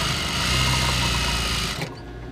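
A high-speed industrial sewing machine runs a continuous whirring stitch after its thread tension was tightened, loud and close, then stops abruptly near the end.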